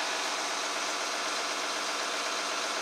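A tractor hauling a grain auger and wagons arrives at a harvest field, heard as a steady, moderately distant engine drone with a constant broadband rumble and no talking.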